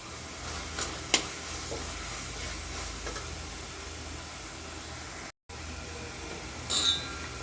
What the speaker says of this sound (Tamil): கொஞ்சமாக கொத்தமல்லி தழை, கொஞ்சமாக புதினா தழை, கொஞ்சமாக கருவேப்பிலை எல்லாத்தையும் சேர்த்துட்டு நல்லா வதக்கிக்கிடுவோம்